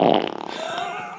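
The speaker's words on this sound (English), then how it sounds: "How is that a fart?" A single drawn-out fart, loud and close at first, then a sputtering rippling tail that trails off over about a second.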